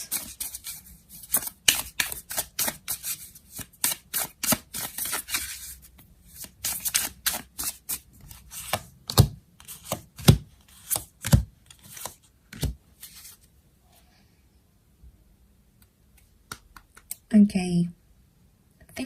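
Tarot cards shuffled and laid out, a rapid flurry of close papery flicks and slaps, then sparser placements as cards land, with a brief voice near the end.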